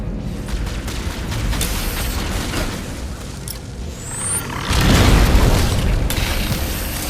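Deep booming explosion of a fusion reactor core in Halo, building from a sustained mechanical roar into a loud, broad blast that lingers and rumbles on.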